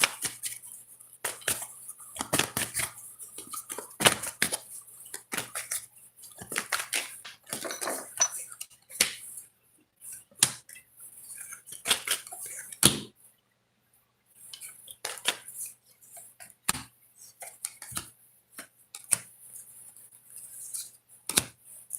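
Tarot cards being handled and shuffled up close, a dense run of crisp clicks, snaps and riffles with brief pauses, fairly quiet and without talk.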